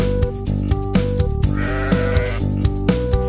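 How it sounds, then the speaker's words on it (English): Sheep bleat repeatedly in a children's song over a bouncy, rhythmic musical backing, the calls coming in quick succession, loud and upfront. "Sheep, sheep,"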